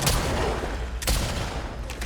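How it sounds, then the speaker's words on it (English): Gunshots in The Last of Us Part II on Grounded difficulty, two or three sharp, loud blasts spaced about a second apart over a dense, rumbling game background. "And then I just decided to shoot some more."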